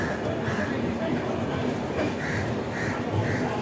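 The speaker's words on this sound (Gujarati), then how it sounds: "ફાઇનલી ગાડી આપણી દસ વાગ્યાને પચાસ મિનિટે અમદાવાદ પ્લેટફોર્મ નંબર પાંચ ઉપરથી નીકળી ગઈ છે" A train pulls out of Ahmedabad platform five, a steady rumbling roll with rhythmic clatter under a person talking nearby.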